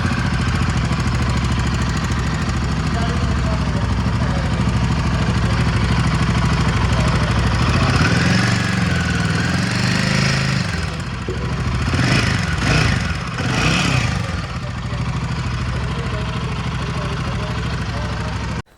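A Royal Enfield Himalayan 450 engine runs steadily after a chain tensioner replacement, a continuous mechanical hum with a clattering tappet-like ticking and a few louder surges partway through.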